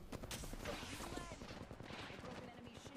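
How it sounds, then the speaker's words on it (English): Dense rapid gunfire from a video game firefight crackles steadily throughout, bursts overlapping in a busy, continuous barrage. "I shot that too high."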